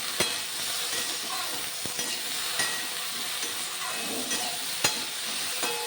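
Okra frying in a pan with salt and turmeric, stirred steadily with a utensil: continuous close sizzle with periodic scrapes and sharp clinks against the pan, no voices.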